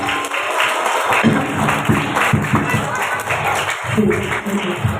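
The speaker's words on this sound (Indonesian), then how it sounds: "Tepuk tangan." Children clap their hands together at a school religious gathering, a lively, steady patter of many small claps mixed with voices in the room.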